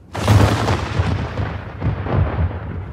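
Musket volley fired by a rank of soldiers in a Revolutionary War Bunker Hill reenactment: a loud, booming burst of massed shots rolling into a second swell, with no talk.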